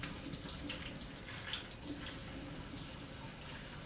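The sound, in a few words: rinsing chicken breast in vinegar water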